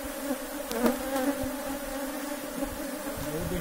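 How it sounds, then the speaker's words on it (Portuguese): A honeybee swarm buzzing steadily in an open hive, a dense close hum of many bees, loud and continuous, with no talking. "E o enxame tá bombando, entende?"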